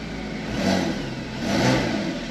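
A Porsche Cayman S 987.2 engine starts, rumbling and revving, swelling twice in throaty surges over a steady idle, close by.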